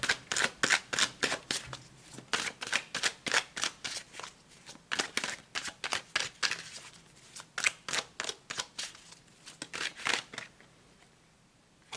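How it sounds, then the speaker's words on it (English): Tarot cards are shuffled and dealt in a long run of quick, crisp riffling bursts, each a sharp papery flutter, close and fairly loud with brief gaps between, and no one speaks. "let's pull some more cards"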